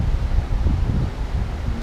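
Steady breeze blowing, a continuous low rushing and buffeting of wind across the microphone, with no voices.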